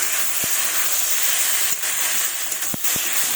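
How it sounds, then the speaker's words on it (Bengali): Spice paste sautéing in a pan for a fish curry made with moya fish and thorny brinjal, a steady hissing sizzle throughout with a few soft scraping stirs. "এখন কষাবো ভালোভাবে। দেখুন, ভালোভাবে কষাচ্ছি।"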